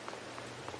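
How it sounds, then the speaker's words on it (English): Rain falls steadily in Farming Simulator 22, a soft, even hiss of drops with a few slightly louder patters, faint and alone. "It's still raining."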